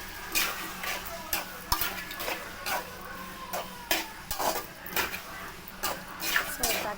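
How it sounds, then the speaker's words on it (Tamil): A spoon scrapes and clinks against a pan while chopped tomatoes and onions are stirred for squid thokku. Irregular metallic knocks and scrapes ring out close by over a soft sizzle, and no one talks. "ஸோ தக்காளியை நல்லா இதே மாதிரி கிளறி விட்டால் தான் நல்லா வதங்கும் காய்ஸ்."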